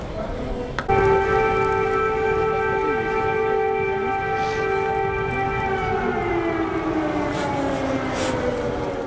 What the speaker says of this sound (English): Air raid sirens blared across the Ukrainian capital Kyiv on the 20th of February